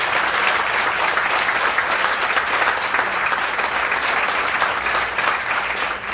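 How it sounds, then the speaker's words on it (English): Sustained round of applause from an audience at an Irish Hall of Fame awards event, dense and steady throughout, loud and close, with no talking over it. "So give the wives a round of applause for us."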